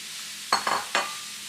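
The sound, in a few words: mangoes cooking in a skillet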